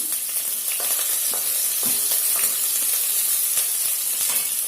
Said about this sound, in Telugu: ఇప్పుడు వేడెక్కుతుంది కదా నూనె దీంట్లోకి ఒక రెండు ఉల్లి ఉల్లిపాయలు పచ్చిమిరపకాయలు వేసుకోవాలి